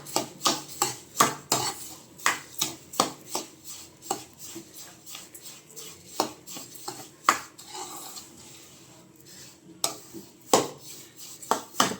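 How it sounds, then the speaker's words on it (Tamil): Sugar and semolina stirred together in a pan for kesari bath, with rhythmic metallic scraping and clinking strokes of a spoon against the pan, close up and fairly regular. "சர்க்கரையும் சேர்த்து இப்போ இது நல்லா மிக்ஸ் பண்ணிக்கிறேன்."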